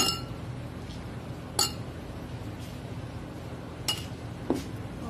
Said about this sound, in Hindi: डालने के बाद इस पे हम डालेंगे आइस।